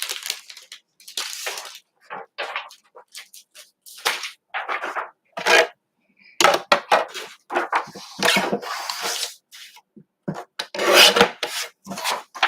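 Vellum paper being cut by hand, heard as a series of close, uneven rasping strokes with short pauses between them and no talk over them.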